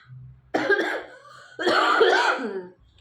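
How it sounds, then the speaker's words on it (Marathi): Two harsh, raspy coughing bursts, close by, separated by a short pause, with a low background hum. "खोकला लागला नाही पण अजून अजून येतो"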